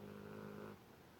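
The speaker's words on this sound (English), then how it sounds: "my dog is snoring." A dog snores faintly and close by, a soft buzzing rasp that trails off partway through, leaving a quiet room.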